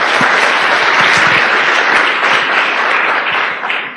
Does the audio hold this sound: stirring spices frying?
no